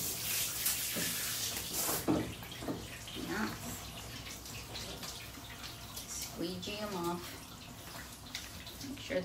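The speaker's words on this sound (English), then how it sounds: "Always want to make sure you rinse them extra long" Water runs and splashes in a bathtub as a Bichon poodle is rinsed, a steady gush with irregular sloshing, and a person speaks softly over it.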